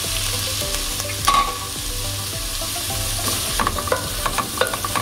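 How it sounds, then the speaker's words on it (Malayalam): Chopped onions sautéing in a hot pan for beef kabiri rice, with a steady close sizzle and repeated scraping stir strokes of a spoon against the pan, carrying on without a break and with no voices. "സവാള നന്നായി വഴറ്റി യോജിപ്പിക്കുക"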